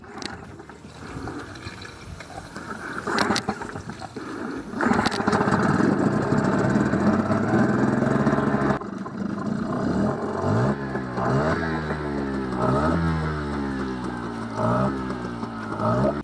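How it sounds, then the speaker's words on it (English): An outboard boat engine is test run out of the water, starting, idling steadily and then revving up and down repeatedly with rising and falling pitch, close and fairly loud. "He's checking if the engine runs smoothly, idles properly, and responds well to the throttle."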